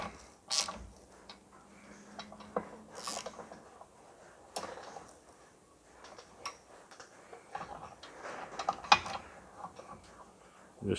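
A ratchet works the flywheel bolts on a John Deere 1640 tractor during clutch fitting, giving bursts of close clicking and mechanical rattling with short pauses between pulls.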